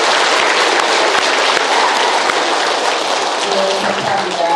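An audience at Sanggye-dong Catholic church gives Father Hong Seong-nam loud, dense, sustained applause that fills the room without pause.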